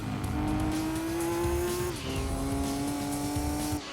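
A race car with heavy aero in Gran Turismo 2 holds a steady high engine drone, briefly dropping at a gear change before climbing again, with tire noise underneath and no voices.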